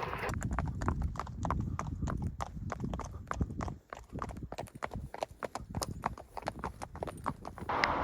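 Horses' hooves clip-clop steadily on a hard surface as they are ridden on a long-distance horseback journey, a continuous brisk rhythm of close, overlapping hoofbeats.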